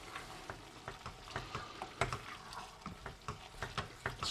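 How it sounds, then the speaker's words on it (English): Wine swirled around a hot pan as a lasagne sauce begins, giving a soft sizzle broken by repeated close scraping and stirring clicks. "Just move that wine around the pan as well"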